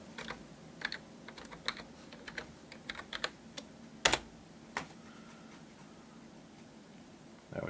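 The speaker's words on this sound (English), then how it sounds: "it's hard typing with one hand." Someone types one-handed on a computer keyboard during a Windows Embedded POSReady 2009 setup, making quiet, irregular key clicks with one louder clack near the middle and pauses between keystrokes.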